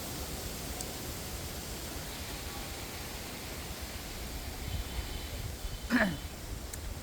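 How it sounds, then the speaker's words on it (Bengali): Strong wind blows before rain in a village under a cloudy afternoon sky, a steady broadband rushing roar with a short louder gust near the end and faint rustling underneath. "কেমন বাতাস হচ্ছে"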